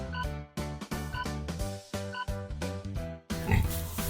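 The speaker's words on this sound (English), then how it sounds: "It's a pig!" A pig grunts and oinks in a quick string of short snorting bursts, close and clear, ending with a rougher, noisier squeal-like grunt.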